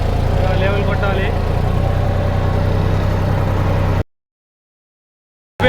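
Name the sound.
tractor engine while plowing a muddy field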